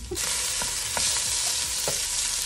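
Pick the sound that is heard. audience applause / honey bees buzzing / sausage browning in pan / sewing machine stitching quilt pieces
sausage browning in pan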